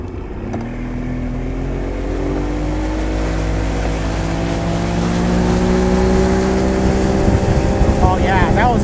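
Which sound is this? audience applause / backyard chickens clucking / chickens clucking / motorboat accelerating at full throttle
motorboat accelerating at full throttle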